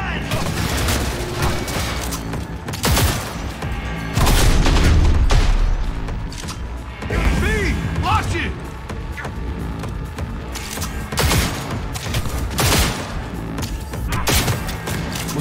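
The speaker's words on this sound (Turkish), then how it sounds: "silah bir değişik sıkıyor bu arada ha" Gunfire in the video game Cyberpunk 2077, with repeated loud shots and heavy booms in irregular bursts, mixed with mechanical clatter and game effects, under intermittent talking.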